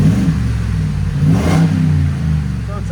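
A 2021 Ford F-250 with a 6.2L V8 engine revving with its exhaust valve closed: a loud, close, deep muffled engine roar rising and easing over a few seconds.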